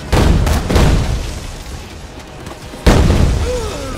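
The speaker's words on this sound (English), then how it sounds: "And why are there so many fireworks in here?" Fireworks explode in the zombie video game Dead Rising 3, two loud booming bursts with crackling decay, the first at the start and another near the end, over a noisy background with no clear speech.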